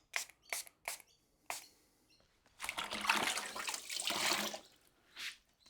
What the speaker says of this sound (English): I can now rinse the headlight off and thoroughly dry it.